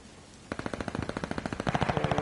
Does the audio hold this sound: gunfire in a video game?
yes